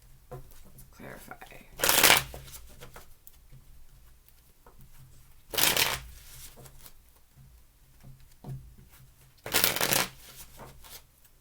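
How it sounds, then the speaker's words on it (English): Tarot cards shuffled by hand in three short, crisp bursts spaced a few seconds apart, close and clear, with quiet talk between them. "Two more shuffles."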